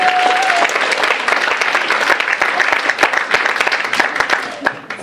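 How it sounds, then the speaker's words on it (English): An audience at an entertainment night gives Kyle a round of applause: loud, dense, steady clapping close by that fills the whole stretch, with a few voices mixed into the crowd. "Everybody give Kyle a round of applause."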